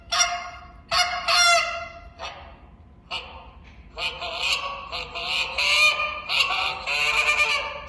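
A goose call blown in a novice live goose-calling contest routine: loud, close honks and clucks in bursts, building into a fast rhythmic run of sharp calls.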